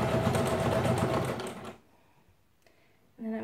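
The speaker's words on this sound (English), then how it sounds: "And then just sew as close as possible." A sewing machine stitches a fabric baby car seat canopy cover in a fast, steady, close-up whir for under two seconds. It then falls quiet before a short burst of stitching starts again.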